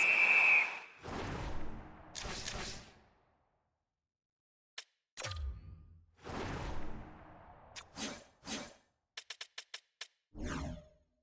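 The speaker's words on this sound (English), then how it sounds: "We get a whistle as the goaltender decides to hang on to this one." A referee's whistle gives one short, sharp blast at the start of an NHL 26 hockey video game match, Flyers versus Blues in preseason. Whooshes, clicks and brief bursts of game noise follow, separated by silent gaps.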